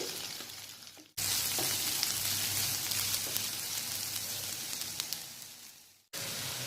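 Sliced onions fry in hot oil with ginger garlic paste for an egg thokku, giving a dense, steady sizzle that begins abruptly, holds, and cuts off just as suddenly.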